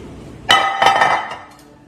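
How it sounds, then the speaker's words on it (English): A glass baking dish knocks sharply against a hard kitchen surface, one loud clink followed by a second ringing contact and a few fading taps, close and alone with no talking. "Don't slam glass around."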